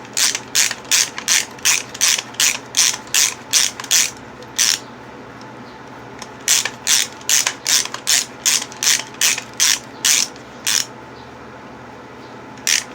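Husky ratchet cutter working through pipe, a rapid series of sharp clicking ratchet strokes in two bursts with a short pause between, close and loud over a low background hum, no talking.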